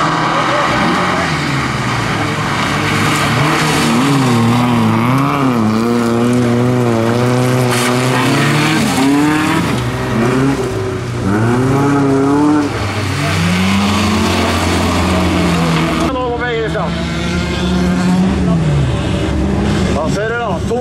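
Bilcross cars race around a track at Stor Elvdal, loud engines rising and falling in repeated revving sweeps as they pass nearby, while a commentator talks over the roar.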